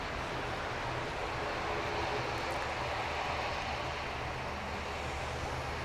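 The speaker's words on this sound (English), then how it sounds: "this is Cayman Airways Express. That's coming in from Little Cayman" A Cayman Airways Express plane arriving at Grand Cayman from Little Cayman, heard as a steady, fairly distant engine drone with broad rumbling noise that holds even throughout, with no talk.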